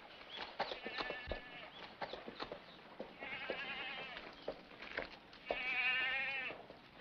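Horse hooves clip-clop in a 1954 Western: a steady run of close, sharp hoof knocks, broken by a few drawn-out animal calls.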